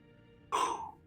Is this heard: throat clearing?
yes